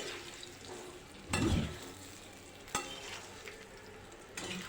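Gujarati muthiya tossed in a pan of tempering: a soft, steady sizzle broken by three louder stirring scrapes and shuffles, close and without voices.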